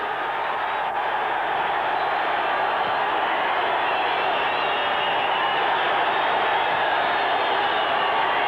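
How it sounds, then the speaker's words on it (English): Boxing arena crowd cheering for a fighter, a dense continuous roar that swells slightly toward the end, with a commentator talking faintly beneath. "Tapia urging the crowd to cheer him on"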